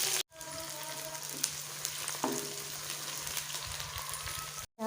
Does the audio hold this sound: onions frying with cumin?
yes